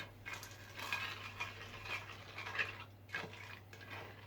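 Ingredients being stirred inside a Tefal Multicook 45-in-1 (RK812142) multicooker pot, with light utensil scrapes and clinks against the bowl over a steady low hum, close and fairly quiet.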